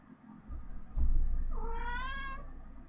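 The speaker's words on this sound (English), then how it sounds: "I keep on hearing meow meows. Oh, I found the cat." A house cat hidden behind a green screen gives a single drawn-out meow that rises and falls, close by, after a low rumble, with no talking.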